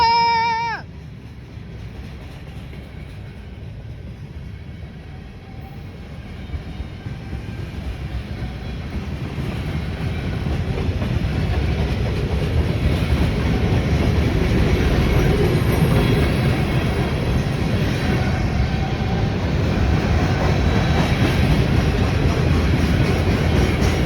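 A BNSF freight train hauling oil tank cars rolls past nearby, a steady loud rumble with wheel clatter building and holding for a long stretch, with no talking.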